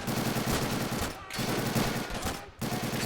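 Machine gun fire rattles loudly in Army Men: Plastic Wars, two long dense bursts of rapid shots separated by brief gaps.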